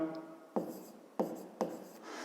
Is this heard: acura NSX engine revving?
no